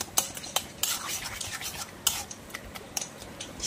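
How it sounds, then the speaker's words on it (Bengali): Taro leaves and chickpeas stirred in a pan with a utensil, giving close, repeated scraping and clinking strokes in an irregular rhythm, fairly quiet with no talk. "এবারে আমাকে খুব ভালো করে অনেকক্ষণ নাড়তে হবে।"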